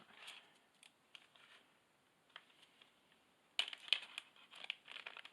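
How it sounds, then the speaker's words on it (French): Small plastic sachet made in China being handled and unwrapped, giving scattered light crinkles and ticks, quiet at first and then a denser, louder burst of rustling near the end, with no talking. "ce petit sachet Made in China, on va le déballer ensemble"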